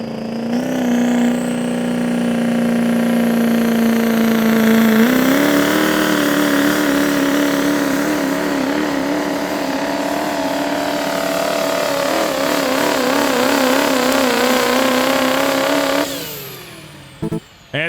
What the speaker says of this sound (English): those Duramaxes just sound so much different and such a different beast out here